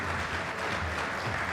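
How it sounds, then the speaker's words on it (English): A crowd applauds padel players at a semifinal of a France Grand Master tournament, a brief, faint wash of clapping heard from a distance. "Huge applause for them."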